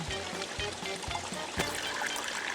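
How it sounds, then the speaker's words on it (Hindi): Water trickling and dribbling out of a soaked maths notebook in a cartoon, a short run of light splashing drips, close and moderately loud, with no talking. "इसमें से इतना पानी कैसे निकल रहा है?"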